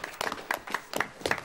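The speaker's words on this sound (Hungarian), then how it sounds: "rajta gyerekek, megérdemlik a tapsot" Children being rehearsed for a competition get a short round of clapping: a handful of sharp, separate claps spaced about a quarter second apart, close and moderately loud.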